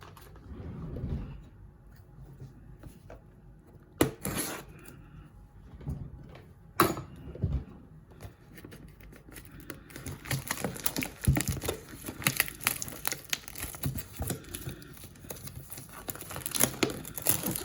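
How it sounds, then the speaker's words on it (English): Cardboard box packaging for a Detective Pikachu item being opened with scissors: close crinkling, sliding and tearing of card and plastic, with sharp snips and thumps, busier and louder in the second half, no talking. "let's bust open this box and see what's in here"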